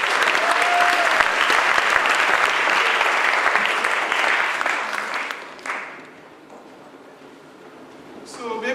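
A film masterclass audience breaks into dense, sustained applause lasting around five seconds, then it thins out and fades to a quiet room.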